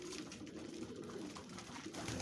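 Pigeons coo softly in a loft during the winter moulting rest period, a low continuous murmur of overlapping calls that stays faint and even throughout.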